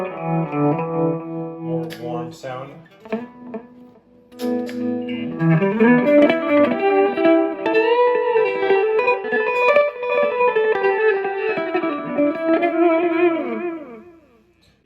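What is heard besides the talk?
guitar through tape echo effect pedal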